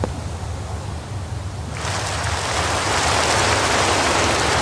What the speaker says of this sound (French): Et là, pile poil, il se met à pleuvoir.